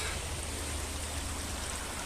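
A Carpathian mountain river flows among spruce trees, a continuous broadband rushing of water heard steadily throughout, fairly close and with no other sounds over it.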